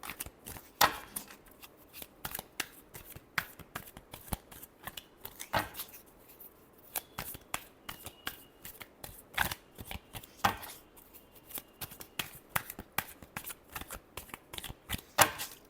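Tarot cards shuffled by hand in a quiet room, a steady run of crisp riffling snaps and flicks with short pauses between bursts, close and moderately loud, no voices.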